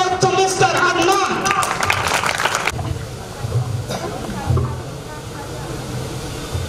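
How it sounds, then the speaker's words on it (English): Audience applause at a school ceremony with a chief guest, mentors and teachers: a dense wash of clapping for almost three seconds, then it drops to a low murmur and room noise with a few stray sounds. "give a huge applause to Mr. Adnan"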